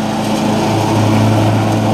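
Cub Cadet XT1 Enduro riding lawn mower cutting through a large stretch of grass, its engine droning steadily and loudly up close with a constant hum and no pauses.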